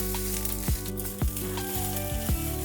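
Sliced onion and dried coconut roasting in a pan for a masala paste, a steady close sizzle punctuated by three or four dull knocks of the spatula.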